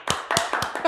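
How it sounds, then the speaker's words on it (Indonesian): Scattered claps ring out for Ziaul Fahmi, a young athlete representing Aceh and Indonesia. About five sharp, separate hand claps come in a loose, uneven rhythm, close and moderately loud, with no voices over them. "berikan tepuk tangan yang meriah kepada Ziaul Fahmi"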